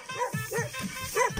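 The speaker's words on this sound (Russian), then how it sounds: "Вот сейчас выпустим собаку нашего кобеля" A male dog being let out for a winter walk whimpers and gives short yipping barks in quick succession, close and moderately loud.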